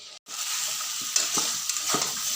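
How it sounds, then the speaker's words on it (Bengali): Spice paste of ground onion and garlic frying in a pan for a mutton dish: a steady close sizzle with repeated scraping stirs, no talking. "মশলাটা একবারে ভাজা ভাজা করে আজকে একটু অন্যরকম করলাম।"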